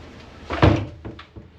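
A wardrobe door in a cruise ship cabin aboard the MSC Magnifica swings shut with one solid close, followed by a couple of faint knocks.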